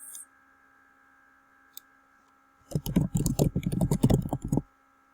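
Quick bursts of keystrokes on a computer keyboard are typed close by for about two seconds over a faint steady electrical hum, with a single isolated click a moment before.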